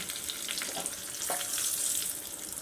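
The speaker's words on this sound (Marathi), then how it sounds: "चांगलं तडतडू द्यायचं आहे" Cumin and mustard seeds with curry leaves and turmeric crackle and sizzle in hot oil in a pan for tempering, a close, continuous frying hiss with a few sharper pops.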